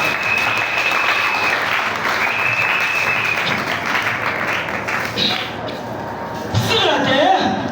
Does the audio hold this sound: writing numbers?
no